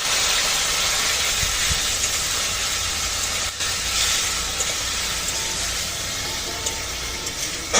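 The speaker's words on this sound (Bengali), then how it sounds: "লঙ্কার গুঁড়ো, জিরা বাটা, হালকা একটু জল দিয়ে কষিয়ে দেবো।" Chilli powder and cumin paste cooking with a splash of water in a pan for a fish curry produce a loud, broad, steady hiss of steam and sizzle that runs unbroken throughout.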